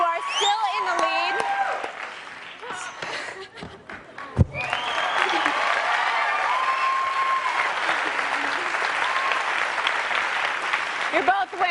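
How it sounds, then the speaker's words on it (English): A crowd claps and cheers loudly, building into sustained applause with whoops, while a voice speaks briefly over it. "Colleen, I'm sure you can hear it from the crowd."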